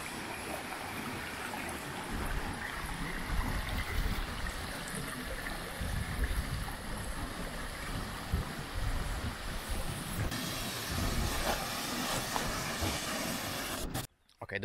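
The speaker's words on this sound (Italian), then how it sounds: "eccole qui le cascate di San Vittorino" The San Vittorino waterfalls pour in a steady, dense rushing roar that fills the whole stretch evenly, loud and close, with a soft voice briefly underneath before it cuts off near the end.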